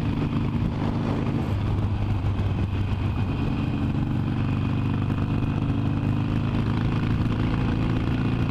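Harley-Davidson 883 Iron with a Custom sport exhaust cruising on the BR 101 highway: a continuous deep engine drone with a faint mechanical clatter, heavy wind noise and no talking.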